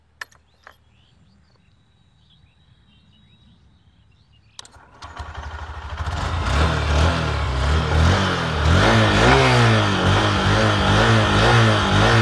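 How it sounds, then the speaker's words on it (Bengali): A few quiet clicks, then a 2025 Honda SP 125 motorcycle engine starts and settles into a loud exhaust rumble, revving up and down repeatedly close by. "চলো একবার এক্সস্ট সাউন্ডটা আমরা শুনে নিই"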